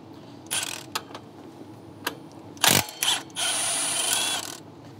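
A ratchet turns a 15 mm bolt behind the belt tensioner on a 2014-2018 Chevrolet Silverado 5.3L engine, giving several short bursts of close clicking followed by a longer steady run of rapid pawl ticks.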